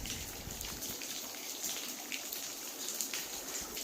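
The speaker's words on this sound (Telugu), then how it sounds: "ఫుల్ వాన పడుతుంది, అసలు చాలా బాగుంది" Steady, dense rain patters continuously at a cave temple, a soft even hiss of drops falling all around with no talking.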